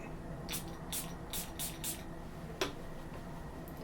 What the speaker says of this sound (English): So we're going to spray this up.